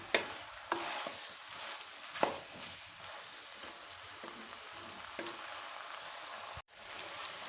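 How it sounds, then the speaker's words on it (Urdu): Potatoes and green beans stir-fry in a pan with a steady frying hiss, punctuated by occasional sharp scrapes and clinks of a spatula, fairly quiet and without talk, cutting out briefly near the end. "اس طرح سے آلو ان میں مکس کر دیں اور ان کو اچھی طرح سے بھون لیں"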